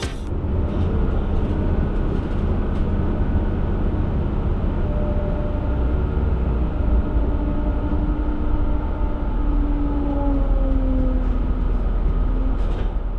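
Steady low rumble of a Lint 27 regional train running on rails near Salzgitter-Immendorf station, heard from inside a carriage, with faint whining tones drifting up and down.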